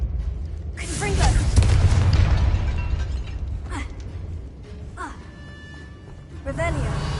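In Hogwarts Legacy, a Confringo fire spell goes off in a burial chamber by an altar and sarcophagus, a deep booming burst that rumbles for a couple of seconds, followed by softer magical effects and later a second swell.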